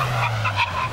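Tyres of a cheap car skid and squeal under hard braking from 60 mph, a loud sustained screech with a low rumbling road tone beneath.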